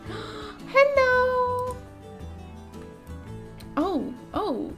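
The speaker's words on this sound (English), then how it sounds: "Oh, there's a kitty cat." A cat in the Murder on the Orient Express video game gives a clear meow, followed by two shorter meows, heard over a low game soundtrack.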